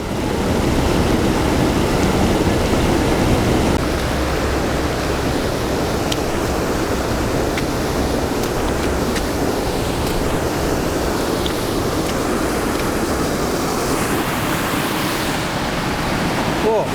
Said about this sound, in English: the microphone's probably going to pick up most of the water noise